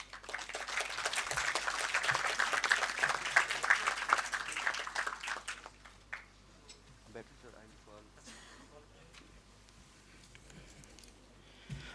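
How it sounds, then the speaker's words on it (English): Conference audience at the World Islamic Economics and Finance Conference applauds loudly for several seconds, a dense round of clapping that fades out midway, leaving quieter room sounds and a few scattered claps. "a big round of applause"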